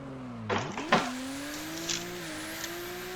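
A race car's engine revs sharply up and down with a brief tyre squeal as the driver kicks the clutch in third gear trying to catch a slide, then settles into a steady engine drone, heard from inside the car.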